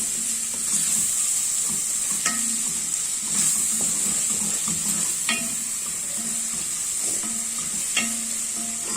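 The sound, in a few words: stir-frying spices with onion and meat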